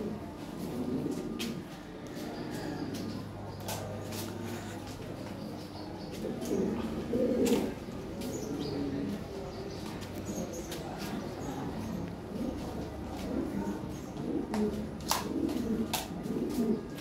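Red Lahori pigeons, a male and a female, coo softly and repeatedly nearby, with scattered clicks and shuffles throughout and no clear speech.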